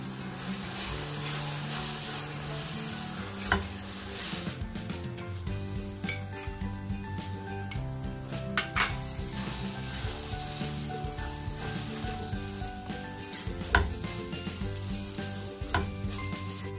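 Sago laddu mixture being stirred in a pan as milk powder is added little by little, giving steady scraping and clinking of a spoon against metal with a soft sizzle underneath, with occasional sharper knocks.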